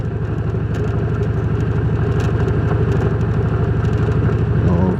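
A motorcycle rides along a deep, loose gravel country road, its engine droning loud and steady throughout with a continuous rumble, and no voices.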